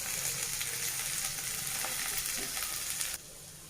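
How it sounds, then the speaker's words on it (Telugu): Ginger-garlic paste sizzles steadily in oil in a pan while cooking a Telangana-style tamarind dish, with faint stirring scrapes, before the sizzle drops away abruptly near the end. "అల్లం వెల్లుల్లి పేస్ట్ కూడా బాగా ఫ్రై అయిపోయింది"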